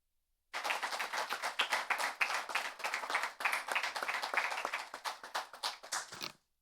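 Applause breaking out in a municipal council session, a room of hands clapping steadily for several seconds, fairly close, then trailing off.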